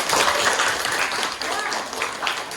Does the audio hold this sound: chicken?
no